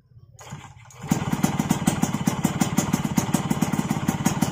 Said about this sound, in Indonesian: kita tombol start, ini, tombol starter